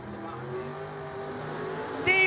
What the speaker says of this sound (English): Steve Tabakek in his beautiful Camaro, taking on the Pro Charge Mustang